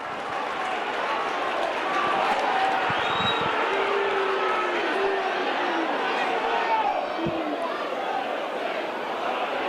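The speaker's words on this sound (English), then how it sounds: "Appreciated by the home crowd." A home crowd at a 2007 Warrington v Hull KR rugby league match cheers and applauds in a steady, loud roar of distant voices and clapping that fills the whole stretch, with a commentator speaking over it.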